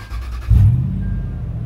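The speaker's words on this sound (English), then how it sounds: "let's turn it on and see how it sounds. The vehicle starts properly." A Toyota 4Runner with a V8 cranks briefly and then fires, settling into a low, steady idle rumble close by, with no talking over it.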